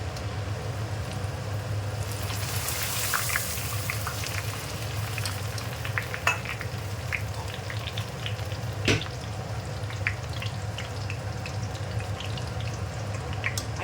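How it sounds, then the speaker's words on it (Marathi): Poha (flattened rice) frying in hot oil for chivda, a steady bubbling sizzle with occasional sharper crackles and stirring clinks, close and continuous with no talking. "मी आज तळून घेणार आहे पोहे"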